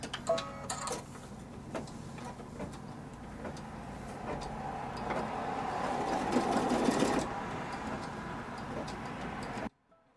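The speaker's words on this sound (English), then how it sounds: "It's just going to do a quick stitch." An embroidery machine runs a quick tacking stitch on a notebook cover, a close, rapid ticking and whirring hum that builds in the middle before stopping abruptly near the end.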